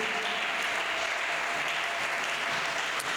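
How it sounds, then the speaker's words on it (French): A church congregation claps together in praise, a steady, even wash of many hands that carries on for several seconds without voices. "Est-ce que nous pouvons donner une bonne offrande d'acclamation à notre Dieu?"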